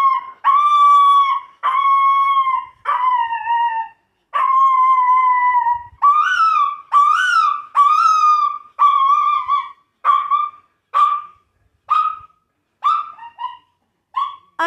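A dog howls repeatedly at close range and at full volume, with long drawn-out wails that break into shorter, choppier cries toward the end.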